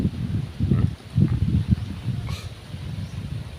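Gusty wind from a low-pressure storm buffets the microphone in low, rumbling surges, rising and falling without any talk.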